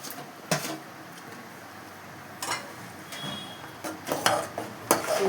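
Ghee-fried cashews, cardamom and raisins drop into a pot of paruppu payasam with a few scattered clinks and soft knocks of a spoon against the vessel over a quiet background.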